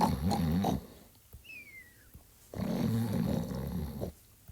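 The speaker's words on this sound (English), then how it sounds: "Its snores are driving me crazy." Two long, low rasping snores from a sleeping grizzly bear, roughly two seconds apart, each a heavy rumbling breath, with a quiet pause and a faint high whistle between them.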